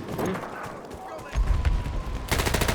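Gunfire in the video game Battlefield 1 on the Monte Grappa map: loud, rapid bursts of shots crackle close by, getting heavier in the second half, with a voice talking over the shooting.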